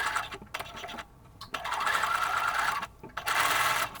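A sewing machine stitches a collar on a dolman top, running in three loud, close bursts of rapid whirring separated by brief pauses.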